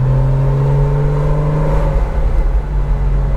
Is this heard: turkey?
no